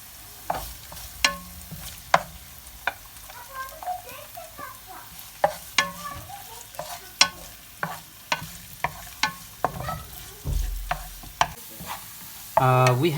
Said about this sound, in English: We have to fry this ginger and garlic until it's getting golden color